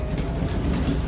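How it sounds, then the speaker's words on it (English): Subway train rumbling and rattling loudly from inside a carriage on the airport line at Houston's IAH, a steady low roar with clattering wheels. "The train just got so shaking like crazy."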